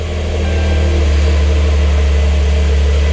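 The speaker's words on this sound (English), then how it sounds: "3-liter engine slowly warm up and spring to life" A Porsche 911 Carrera S (992) Cabriolet's 3-liter engine runs just after a keyless start, holding a loud, steady, low idle hum that stays even throughout with no talking.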